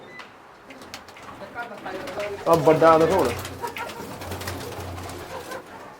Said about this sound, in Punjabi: ਇੱਧਰ ਵੀ ਵੱਡੇ ਕਬੂਤਰ ਬੈਠੇ ਆ